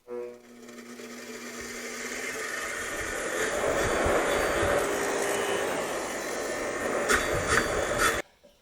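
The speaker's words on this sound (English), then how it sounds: "I'm just going to grind off, well, any loose scale" A wire wheel on a grinder scrubs loose scale off a rusted Caterpillar D4 engine part, a steady rough whirring rasp at moderate distance that ends abruptly, with a few sharper scraping bursts near the end.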